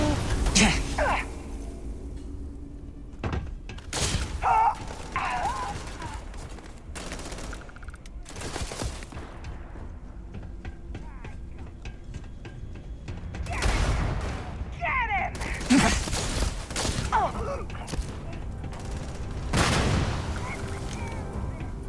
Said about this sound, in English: There's a lot of explosions going on right now.